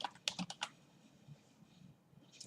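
A computer keyboard clatters with a short burst of keystrokes at the start, then only faint room noise at low volume.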